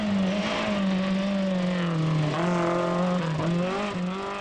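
A rally car at the 1996 Rallye des Géants leaves the start of a special stage, its engine revving hard and rising in pitch, with quick gear changes and brief dips before climbing again, close and loud.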